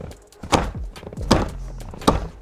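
Three dull, hollow thunks from the electric headrest of a Mercedes W211 being struck from below, spaced evenly and close up, with no one speaking.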